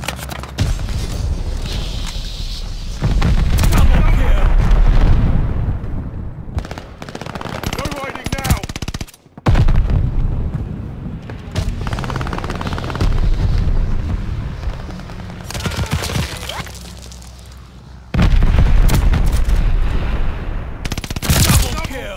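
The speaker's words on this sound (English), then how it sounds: "Teammate called a bombing run." Bombing run in the video game Call of Duty: Vanguard, heavy explosions and bursts of rapid gunfire rolling almost without pause, loud and dense, with a brief cut near the middle and voices occasionally audible under the din.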